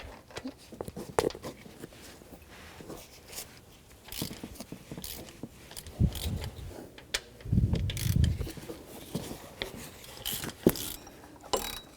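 A ratchet on a socket breaks loose and turns the water pump bolts on a 1997-2004 Dodge Dakota, giving scattered clicking bursts and short ratcheting runs with handling noise and pauses in between.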